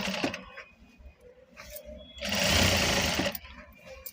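Sewing machine altering a readymade blouse, running in a loud steady burst of stitching in the middle, with lighter start-stop whirring and handling noises around it.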